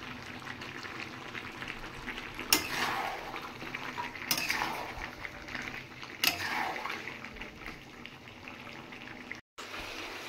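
Chopped tomatoes go into a pan of frying chicken curry with a steady bubbling, stirring simmer and a few sharp clanks of a utensil against the pot, with no talking.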